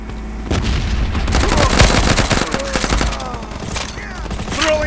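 Rapid gunfire and booming grenade blasts fill a first-person shooter match, loud overlapping bursts of shots and explosions running throughout with a few brief voice sounds mixed in.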